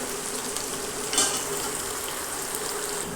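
Raw okra (bhindi) fries in a pan while being stirred, a steady soft sizzle with a brief scrape of the spoon partway through, close and moderately quiet with no talking.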